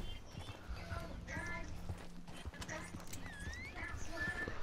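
Horse hooves clip-clop in the Red Dead Redemption video game, a steady walking rhythm of hoofbeats with a brief whinny, while players talk over it and game ambience fills the background.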